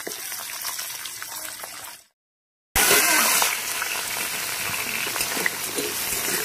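Potatoes and green banana sizzle as they fry in a pan, with a steady crackling hiss that breaks off briefly into silence and then returns louder and closer.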